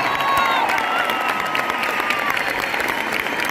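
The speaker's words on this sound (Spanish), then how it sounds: "Fuerte el aplauso." Concert crowd at Luna Park applauds loudly and continuously, with cheering and whistles mixed into the steady clapping throughout.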